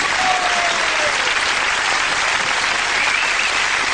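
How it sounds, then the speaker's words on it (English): A live television studio audience applauds a guest invited on stage, continuous loud, dense clapping from a large crowd throughout, with only faint voice traces beneath. "Come on, give him a round of applause"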